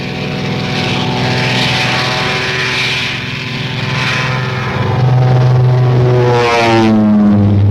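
Royal Air Force propeller planes from WWII fly overhead in a loud, steady drone, engines throbbing with a rising pitch shift near the end as one passes close.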